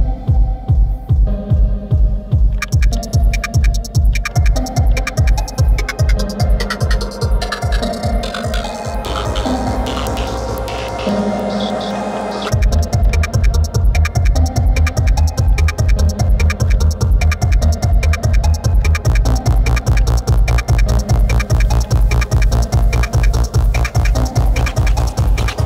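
Elektron Octatrack playing a chopped sample shaped by LFOs and effects: a loud, pulsing electronic loop of throbbing bass hits and glitchy stutters, with a sustained droning break midway before the rhythmic pattern returns.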